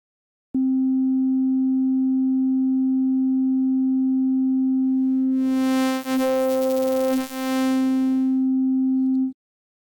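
A steady sustained tone from the oscillator of a Yamaha MODX M synth on its AN-X engine, loud and alone. Partway through, a bright buzzy modulated layer rises over the tone, wavers twice, then fades before the note stops.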